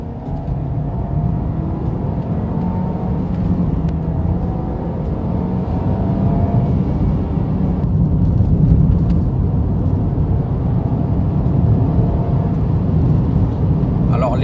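A Land Rover Evoque P200/P300e drives in sport mode, its engine giving a steady, moderately loud rumble that builds slightly partway through. Someone talks over it throughout.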